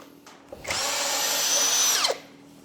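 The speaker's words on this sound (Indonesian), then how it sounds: "sekarang kita coba aja untuk bor ke tembok ya atau ke beton" A Hasston cordless impact drill whirs up to a loud, steady high-pitched whine for about a second and a half while drilling into concrete, then winds down, heard close up.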